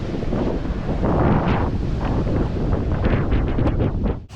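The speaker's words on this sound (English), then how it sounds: "It's getting a little windy anyways" Strong, gusty wind buffets the microphone on a seaside bridge near breaking waves, a steady close roar with surging gusts and no talk.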